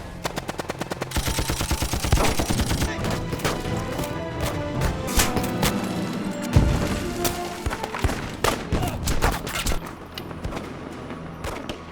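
Rapid machine-gun bursts and scattered single gunshots fill a film battle scene showing the Seediq warriors' last stand in the high mountains, dense and loud throughout with sharp impacts and no speech.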